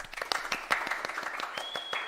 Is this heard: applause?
yes